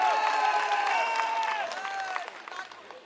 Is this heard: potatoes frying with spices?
no